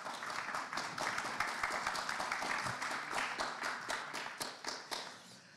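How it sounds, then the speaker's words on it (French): Audience applause at a French marketing conference: dense, steady clapping from a room of people, close and sustained throughout with sharp individual hand claps standing out. "On applaudit s'il vous plaît."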